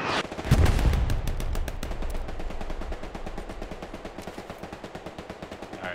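Gunfire in the World War II shooter Hell Let Loose, a heavy boom and then sustained rapid automatic bursts, loud and close, rattling steadily to the end with no talking.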